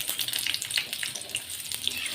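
Katla fish fingers fry in a pan with a soft, continuous sizzle, crackling pops scattered over the fizzing as the pieces are turned, close and moderately quiet.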